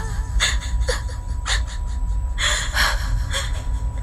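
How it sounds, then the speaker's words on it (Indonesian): Heavy, ragged panting breaths in a horror story, a person out of breath after running into a lift. Gasping inhales and exhales repeat close and loud over a steady low rumble, with no talking. "Nafasku terengah-engah."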